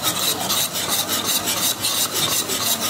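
Milk tea cake batter is mixed with room-temperature yogurt in a bowl, giving rhythmic, scraping stirring strokes. The strokes are continuous and close, with no talking.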